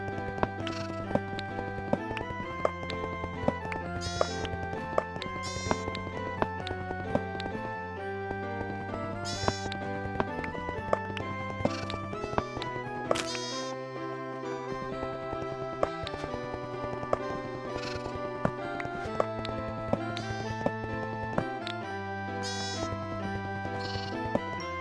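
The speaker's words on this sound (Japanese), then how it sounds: "掘削音をお楽しみください。" Sped-up block mining in Minecraft with stone tools: quick, regular knocking hits repeat throughout, set against steady background music.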